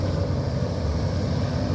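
Sumitomo SH130-6 excavator with a 95 hp Isuzu 4JJ common-rail diesel, working on farmland, runs with a steady low rumble and no one speaking.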